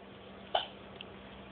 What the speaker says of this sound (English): With the hiccups.